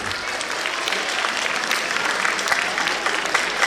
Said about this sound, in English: So please give them for huge round of applause and congratulations to all the winners.